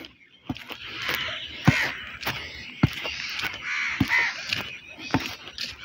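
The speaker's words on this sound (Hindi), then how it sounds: "परिंदों की आवाज़ें आ रही हैं बड़ी प्यारी" Crows caw repeatedly amid other birdsong on a village morning, sharp calls recurring every second or so at moderate distance over a steady chorus of chirping.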